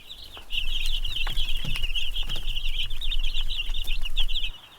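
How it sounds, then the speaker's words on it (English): Cornish cross broiler chicks, a batch of 62 young females, keep up a dense, continuous high peeping chorus with scattered louder cheeps, steady and fairly close throughout. "Our first batch of broiler chicks showed up 4 days ago. 62 healthy Cornish cross female chicks."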